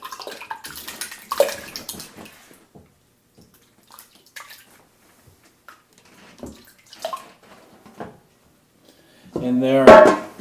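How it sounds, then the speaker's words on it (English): Homemade yogurt poured from one vessel into a container, a soft, intermittent wet slosh that stays quiet and close, ending in a brief louder gush. "pour my yogurt"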